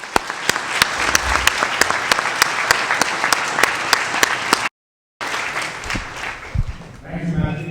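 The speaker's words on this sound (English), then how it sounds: "Let's please give them a warm welcome and round of applause." Audience applause for an opening panel at a youth assembly, dense and sustained clapping with sharp individual claps, a brief cut to silence, then the clapping resumes and fades as a voice begins.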